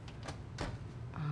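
An oven door swinging shut in a home kitchen while tom yum salmon goes in to bake, heard as a few close knocks and a closing thud within a second.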